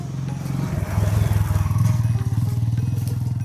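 A motorcycle rides along a dirt village path on a river island, its engine puttering in a close, steady rhythmic throb that rises slightly as it accelerates, with some rattling over the rough ground.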